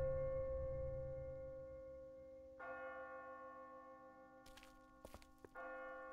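Church bells ring in The Walking Dead video game, a sustained metallic tone that rings on, struck again with a fresh peal midway, broken near the end by a few dull thuds, with no voices.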